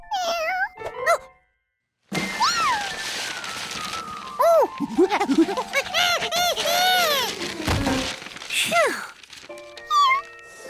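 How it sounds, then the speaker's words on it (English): A young cartoon kitten in Curious George mews several times in high, rising-and-falling meows, some short and some drawn out, loud and close, with other animated-show sounds around them. "His job was to watch Professor Wiseman's new kitten, Lucky, who was too young to take care of hi"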